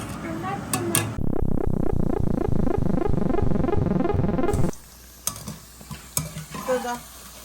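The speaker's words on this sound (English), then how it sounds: "So the onion fritters are all done frying." Onion pakoda fritters frying in hot oil give a loud, steady sizzle for about three and a half seconds, then it drops away, leaving quieter clinks and stirring sounds.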